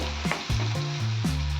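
Green chillies with ginger fry in hot oil for prawns Manchurian, a loud close sizzle with a few quick stirring scrapes.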